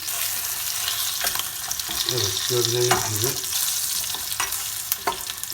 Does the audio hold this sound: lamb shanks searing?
yes